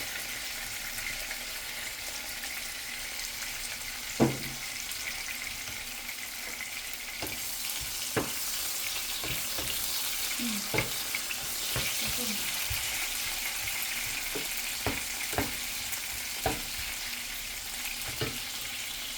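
Garlic sizzles with mushrooms in a pan in a steady, bright frying hiss, with scattered sharp clicks and scrapes of a utensil against the pan.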